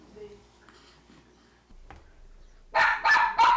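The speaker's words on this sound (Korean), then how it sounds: "낮잠에서 깬 시윤이가 칭얼거리자 엄마에게 와보라는 듯 짖는 쪼꼬" A miniature schnauzer barks indoors at home near a fussing baby, three loud, close barks in quick succession after a quieter stretch of faint household sounds.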